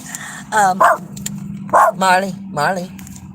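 Pet dog barking repeatedly inside a van at another dog being walked past outside, several loud close barks in short bursts over a steady low engine-like hum.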